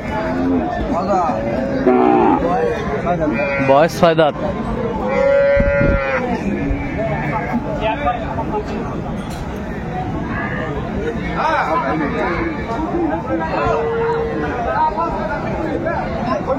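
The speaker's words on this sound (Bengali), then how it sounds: "শাহিওয়াল গাভী বাচ্চা আমরা দেখছিলাম।" A Sahiwal cow with her calf lows at a busy cattle market, loud drawn-out moos standing out near the start and middle over constant crowd chatter, with someone speaking briefly nearby.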